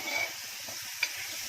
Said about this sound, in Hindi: अब इसको भून रही हूँ अच्छे से